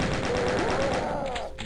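Rapid machine-gun fire from the video game Doom, a dense continuous burst of shots lasting under two seconds, loud and close with a sharp, evenly repeating rhythm.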